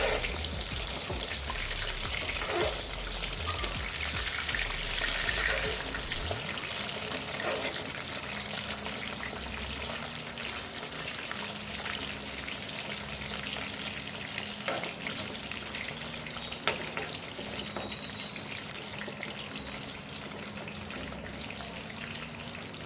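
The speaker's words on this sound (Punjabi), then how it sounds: "ਆਪਾਂ ਕਰੇਲਿਆਂ ਨੂੰ ਫੇਰ ਫਰਾਈ ਕਰ ਦਾਂਗੇ" Stuffed bitter gourds made with sour raw mango fry in hot oil with a continuous crackling sizzle. It stays even and close throughout, with a few faint utensil taps.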